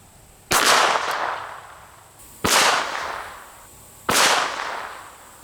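Ruger LCR .22 revolver fired at a steel bumper plate outdoors, three sharp cracks spaced about two seconds apart, each with a short ringing tail, loud and close.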